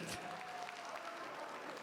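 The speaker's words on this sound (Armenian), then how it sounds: "Ուզում եմ մի հատ բարձր ծափարենք մեր ընկերոջը։" Guests at an Armenian wedding clap together in brief, faint applause, a steady wash of hand claps heard from a short distance.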